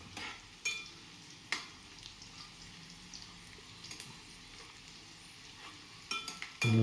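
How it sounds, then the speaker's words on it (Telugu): A vegetable curry frying in a pan hisses in a quiet, even sizzle, broken now and then by faint stirring knocks, with no voices. "ఇప్పుడు ఇంకొంచెం ఇంకొంచెం వేగాలన్నమాట అండి కొంచెం వేగాలి"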